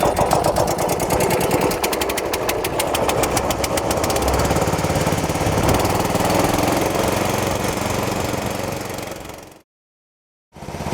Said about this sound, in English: we got our engine started